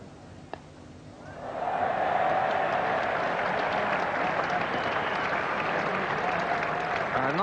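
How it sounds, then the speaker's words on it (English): A cricket crowd at the 1986 England vs New Zealand first Test applauds batsman David Gower. The clapping swells after a quiet second into a broad, sustained wash of distant applause that holds steady to the end. "I'm not sure if David Gower does deserve the applause he's getting"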